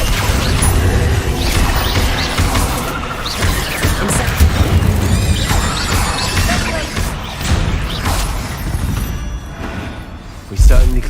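Accio summoning spell cast in Hogwarts Legacy during busy combat, with whooshing magic, booms and crashing effects layered over game music and speech-like voices throughout.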